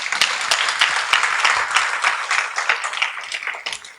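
A church congregation applauds during a French-language sermon, a dense, steady wash of many hands clapping with a few sharper claps standing out, continuous for the whole stretch.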